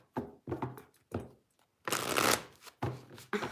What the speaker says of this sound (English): I'm pulling cards.